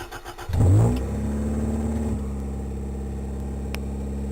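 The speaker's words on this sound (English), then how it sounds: "put the clutch in, make sure we're in neutral, and start the car" A Toyota AE86 engine cranks briefly, catches with a loud burst of revs, then settles into a steady, droning idle close by.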